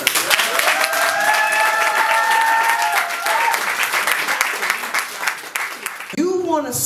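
Audience applause fills a hall, steady clapping from a crowd with a few cheering whoops and a voice speaking near the end.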